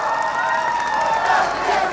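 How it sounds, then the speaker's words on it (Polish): Crowd cheering and applause at a speedway gala fills the hall in a steady, dense roar with no break, loud and close, with shouting voices mixed into the noise. "Brawa dla zarządu i zawodników. Brawa!"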